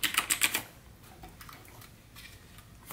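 Clicky green-switch keys on a Razer BlackWidow Chroma V2 keyboard: a short burst of sharp, close keystrokes at the start, followed by faint scattered taps.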